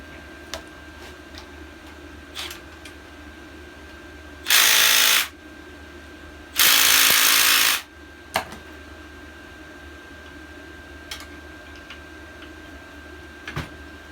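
Power tool removing a bolt from a Scag edger engine during teardown: two loud bursts, each about a second long, with a short pause between, close by, otherwise quiet with faint clicks.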